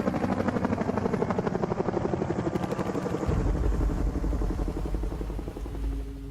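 A military helicopter's rotor chops loudly and close in rapid, even beats, then the sound shifts into a deeper sustained engine roar, with no talk over it, set in the Vietnam War of 1968–1969.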